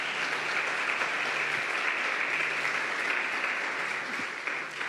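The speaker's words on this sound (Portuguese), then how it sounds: "Você pode aplaudir bem forte" A church congregation applauding loudly during a sermon: a continuous, dense roar of many hands clapping, even and sustained for about five seconds, with no voices on top.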